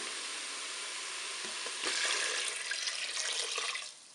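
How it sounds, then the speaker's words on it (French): Water poured into a Cookeo pot-au-feu over softened onions, with a steady hiss of frying that swells into a louder rushing splash midway, then fades near the end; no talking. "je vais maintenant ajouter l'eau"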